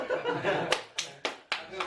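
Four enthusiastic claps ring out sharply in quick succession, close and loud, following a stretch of laughter and talking voices.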